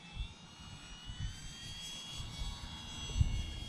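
A Freewing Pandora RC model airplane flies a landing circuit, its electric motor a faint, steady distant drone with slight rises as power is added.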